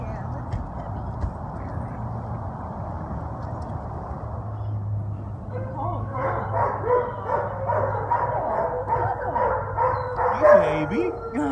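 Puppy barking and yipping at an animal shelter, high excited barks repeating rapidly in the second half over a steady background hum, with people talking nearby.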